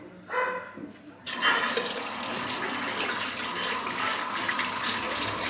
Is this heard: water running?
yes